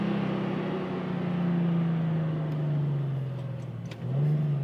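Infiniti G37 fitted with long tube intakes accelerating hard, a loud, close engine note rising steadily, dipping briefly near the end and then surging again as it pulls.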